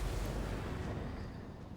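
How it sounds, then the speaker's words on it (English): Cannon fire strikes units in Total War: Warhammer II, a deep booming burst that fades out over under two seconds, heavy in the low end with no talk. "When the cannons hit them, that's a lot of damage."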